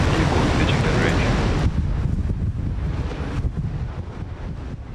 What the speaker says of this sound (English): Ignition. And liftoff. Go SpaceX, go SiriusXM.